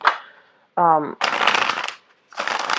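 Playing cards are riffle-shuffled in two rustling bursts, close by on a soft surface, with a short spoken phrase between them.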